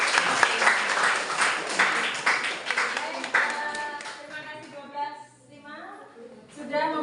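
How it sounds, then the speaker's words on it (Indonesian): A classroom of students gives a burst of loud clapping for the class session leaders at a civics-lesson meeting. The applause fades after about three seconds and a voice begins speaking. "beri aplaus pada pimpinan sidang"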